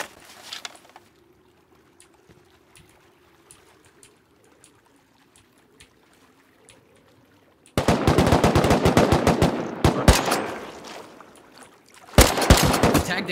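Gunfire in a snowy survival shooter game: rapid automatic bursts break out loudly after a long quiet stretch, stop briefly, then come back in another burst.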